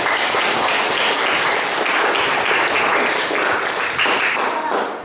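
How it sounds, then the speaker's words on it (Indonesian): Classroom students clap together in a loud, dense burst of applause lasting several seconds and tapering slightly at the end. "Tepuk tangan dulu."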